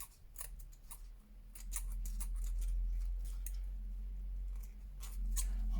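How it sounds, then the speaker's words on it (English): Small sharp scissors snip through paper ephemera in a series of quick, crisp cuts, faint and close against a low steady background hum. "Oh, I need little sharp scissors is what I need"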